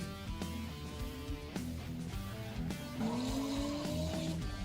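A drift car corners at the Philippine Drift Series at the Philippine Arena, its engine revving over repeated gear shifts before a long rising tire squeal, heard from a distance and loud.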